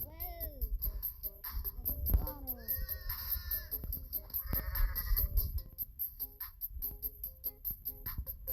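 Repeated wavering goat bleats, several in a row, mixed with close talking and scattered thumps and clatter.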